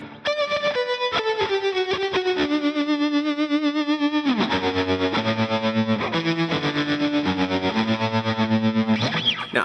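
Electric guitar through a fuzz distortion effect on a Line 6 Helix, buzzing loud and thick with sustained, warbling notes and some quick chopped hits, close and continuous with no voices.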